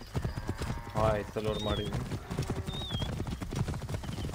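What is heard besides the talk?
horse hooves galloping in video game Assassin's Creed Origins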